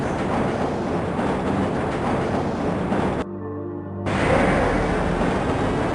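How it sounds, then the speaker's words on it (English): The Black Mesa tram in the video game Half-Life rolls along with a loud, continuous rumbling drone that briefly drops to a hollow, tonal hum before the full noise swells back. "This train is inbound from Level 3 dormitories to Sector C test labs and control facilities."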